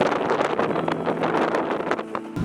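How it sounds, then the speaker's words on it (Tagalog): Strong wind buffeting the microphone outdoors at a coastal spot in Pangasinan, loud rumbling gusts roaring steadily throughout, no speech. "Pero sobrang lakas talaga ng hangin."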